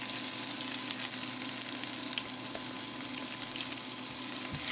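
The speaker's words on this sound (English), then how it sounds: "Let this saute for a few seconds." Garlic sautés in a hot pan with a dense, continuous close-up sizzle that holds at an even level throughout, with no voices.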